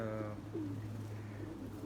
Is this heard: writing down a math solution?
no